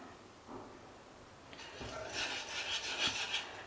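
A spoon stirs chocolate bread pudding mixture in a kadai over a low flame, giving faint, intermittent scraping and rasping strokes against the metal pan that grow busier toward the end.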